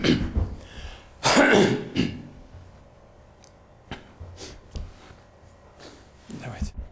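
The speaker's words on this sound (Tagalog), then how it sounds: "Halos mabulunan ako sa ubo." Several harsh throat-clearing coughs from an itchy throat, a loud burst near the start and a heavier one around a second in, then smaller scattered coughs and breaths spread across the rest, close and unaccompanied by talk.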